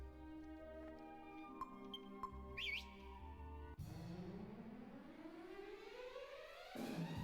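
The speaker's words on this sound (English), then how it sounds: "I was wondering if you could get Metal Slime through whistling" A whistle from the Dragon Quest VIII video game, used to call enemies, gives a brief rising tone over steady game music, followed by a sweeping rising swirl.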